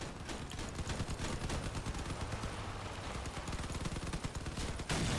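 Enemy team's gunfire in a video game: a continuous rapid rattle of automatic shots from several weapons, steady and dense throughout, no talking.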